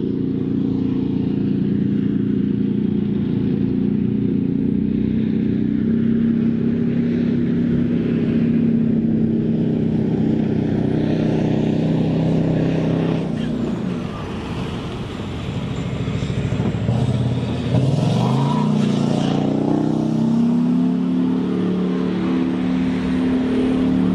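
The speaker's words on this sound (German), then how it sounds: "Darum hört sich das Auto auch an wie ein Rennauto." The engine of a Puma infantry fighting vehicle drones loudly and steadily at close range, then revs up and down with rising and falling pitch partway through before returning to a steady roar.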